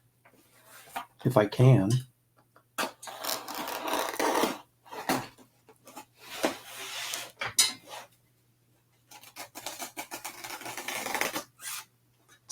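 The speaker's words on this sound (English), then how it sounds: "Let's cut this open with my trusty blade here and see what's inside," A blade scrapes and slices through a cardboard shipping box holding old comics, in bursts of rough rasping cuts and rustling between pauses, with brief talk.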